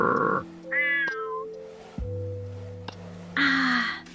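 A person imitates a cat with a few drawn-out, pitched meows, spaced apart and heard alone at close range, the voice rising and falling like a real cat's cry.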